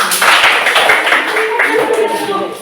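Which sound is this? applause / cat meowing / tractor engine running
applause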